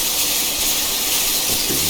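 Steady steam hiss with a brief tonal whistle note rising near the end, from a GWR Pannier 0-6-0T steam tank locomotive's brake whistle in Train Simulator Classic.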